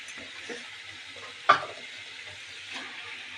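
Greens cook in a pan with prawns and spices, a faint steady sizzle with a single sharp clack of a utensil midway and a softer stir near the end.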